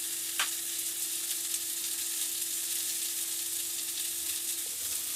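Salmon burgers sizzle softly and steadily in a pan, a faint, continuous frying hiss with a faint steady hum underneath.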